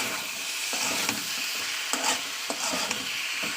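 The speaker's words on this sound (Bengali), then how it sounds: "তো চলুন আমি ভালো করে জিনিসটা মাখে নেব" Fried okra being tossed and mixed in a hot pan, a continuous close sizzle with scattered scraping and tapping of the stirring utensil, no talk.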